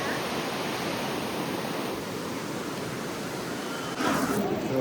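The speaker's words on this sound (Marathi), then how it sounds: "गरम कुंडचं पाणी येतं आणि हे नॅचरल कुंड आहे" Water from a natural hot spring pool, called a kund, flows in a steady broadband rush that stays loud and unbroken, with a brief extra splash near the end.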